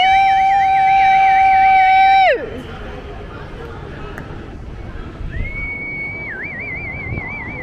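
A loud wailing siren sweeps up and down, cuts off abruptly, then resumes more faintly a few seconds later over crowd noise and voices.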